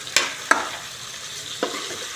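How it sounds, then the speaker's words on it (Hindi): Chopped tomatoes go into a pan of pork curry frying in spices, followed by a few sharp scrapes and stirs of a utensil against the pan over a quiet sizzle, with no talk. "ये डाल दिए भाई इसमें टमाटर"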